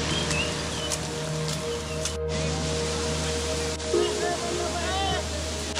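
Thoseghar waterfall near Satara, Maharashtra, roars as a loud, constant rush of falling water with rain and wind blowing through, faint voices and brief knocks surfacing over the steady wash.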